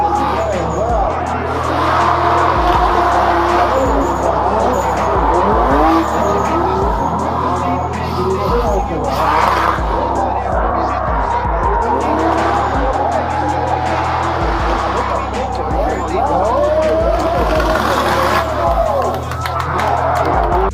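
Drift cars running in tandem at the Suurhalli Drift 2022 event, engines droning and revving with tire squeal, loud and continuous with crowd noise and talk mixed in.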